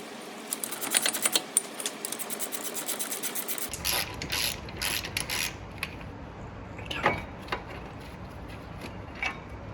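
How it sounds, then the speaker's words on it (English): A ratchet loosening the 21mm caliper bracket bolts on a Dodge Grand Caravan, producing rapid close clicking bursts followed by scattered metallic clicks and clunks, with no talking. "I'm gonna remove this bolt and that bolt holding the bracket on from the caliper."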